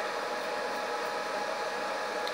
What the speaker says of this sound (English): What you are hearing there is the fan, which cuts in very regularly.